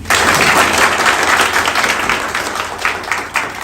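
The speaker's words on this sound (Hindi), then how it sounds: "अब ताली बजा सकते हैं।" Close, loud applause from an audience at a meetup, a thick wash of clapping hands that holds steady, then loosens into scattered claps near the end.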